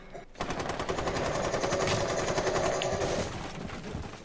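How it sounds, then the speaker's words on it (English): Continuous rapid automatic gunfire in Rainbow Six Siege, a dense rattling burst that starts abruptly and keeps hammering loud and close for about four seconds before tapering slightly. "Covering fire."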